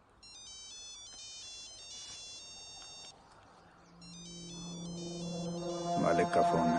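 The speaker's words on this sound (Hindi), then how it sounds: "मालिक का फोन है, उठा लो।" A phone ringtone plays a repeating electronic beeping melody, then pauses and starts again, with background noise and other sounds building toward the end.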